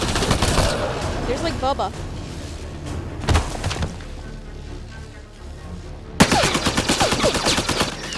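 Gunfire in Mass Effect Andromeda, with loud bursts of rapid shots near the start and a sharp, dense volley erupting late, along with scattered impacts and someone talking between them.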